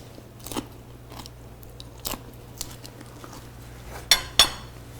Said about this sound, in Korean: 자, 여기에 샐러드를 한번 먹어보도록 하겠습니다.